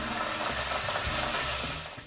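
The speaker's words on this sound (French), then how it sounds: "je les fais revenir à la poêle dans du beurre" Apple pieces fry in butter in a pan, giving a soft, steady sizzle with faint crackles and a light stirring scrape, fairly quiet and heard alone for a couple of seconds.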